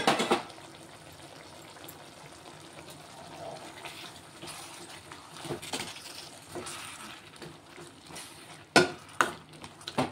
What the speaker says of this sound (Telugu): టమాటాలు ఉడుకుతున్నాయి